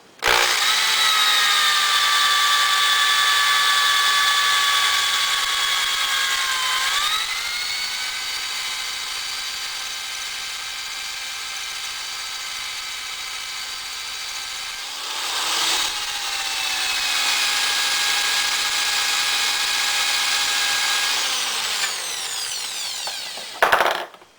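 A power-driven case trimmer cutting down a rifle cartridge case held in a shell holder, a steady high whirring whine that shifts pitch as the cut loads it, running continuously and close with a brief dip midway.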